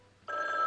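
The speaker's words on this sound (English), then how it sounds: "The other phone is ringing, okay?" A telephone bell starts ringing after a brief quiet moment, a bright, steady electronic ring held loud and close to the end, with no one speaking.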